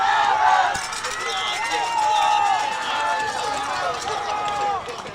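A crowd cheers and murmurs steadily through a high school baseball game between the Longview Lobos and Corsicana, a dense, loud roar of voices under a commentator's talk.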